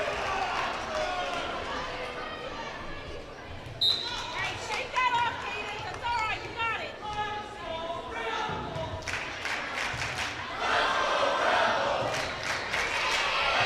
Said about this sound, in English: Hometown fans cheering on.